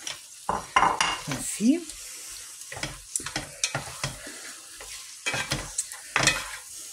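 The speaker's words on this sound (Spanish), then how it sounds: "Ahora le vamos a poner el tomate. ¿Eh? Que también se tiene que freír." Minced meat and tomato frying in a pan while being stirred, giving a soft sizzle under scraping and clinking of a utensil against the pan, fairly quiet and close, with one short spoken word.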